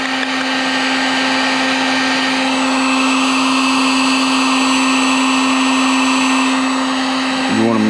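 A heat gun blows hot air onto plastic, melting it for a boat hull repair. Its loud, steady whine and whoosh runs continuously close up, with a brief shift in pitch near the end.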